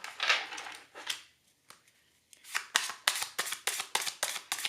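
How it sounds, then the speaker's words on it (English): Tarot cards riffle and flick close by, starting with a soft shuffle, a pause, then a rapid run of crisp snapping bursts in quick rhythm. "Oh, that was an awful shuffle."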